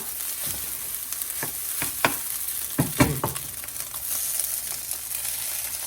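Chicken fried rice ingredients sizzle loudly in a pan under a steady frying hiss, with several sharp scraping and stirring knocks as things are tossed in and moved around.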